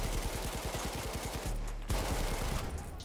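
Light machine gun firing in the Battlefield 1 video game, an LMG variant of the SMG 08: a loud, rapid automatic burst of evenly spaced shots, a short pause, then another sustained burst.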